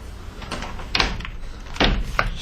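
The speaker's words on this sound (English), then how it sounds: "Go ahead and pull this door closed." Driver's door of a 2011 Ford E150 cargo van being pulled shut, heard close up as a few solid thuds and latch clicks spread over a couple of seconds against a steady background hum.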